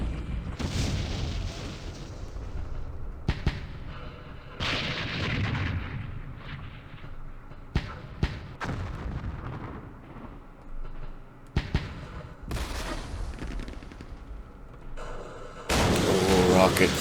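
Rockets launch and explode in the Vietnam war game Campaign Series Vietnam during the Battle of Hue, with several heavy booming blasts and rumbling bursts separated by short lulls, and someone talking over the gunfire.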